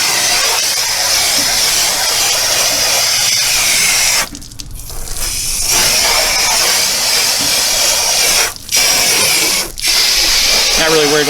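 A hose sprays water, rinsing bug remover off a car panel and a wash glove, a loud, close, continuous hiss broken by a few brief pauses and dips.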